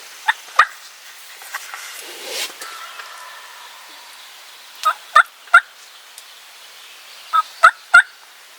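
Wild turkeys gobble during a late-season Vermont hunt, several loud nearby bursts coming in bunched pairs and triplets, with soft rustling in the quiet gaps between calls.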